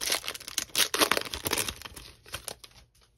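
Topps trading card packs being torn open, close crinkling and ripping of foil wrappers in quick bursts that ease off toward the end, no talking.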